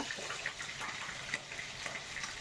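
Pieces of snakehead fish frying in oil give a dense, steady sizzle with small bubbling crackles and occasional sharper pops, close by and with no talking.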